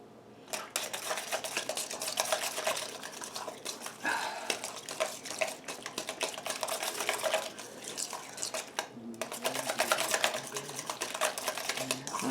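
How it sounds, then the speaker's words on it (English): Eggs with Italian seasoning and garlic being mixed in a bowl, a fast continuous whisking clatter with a brief pause midway, close and steady, no talking. "So we're just going to mix our eggs"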